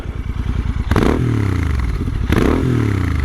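A Royal Enfield Interceptor 650 with PoweRage short end cans idles with a steady low throbbing pulse, loud and close, swelling briefly twice with a blip of throttle.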